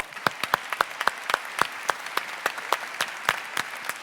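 Audience applause at a French personal-development talk, a steady patter of many hands with sharp individual claps standing out, moderately close and continuous for a few seconds.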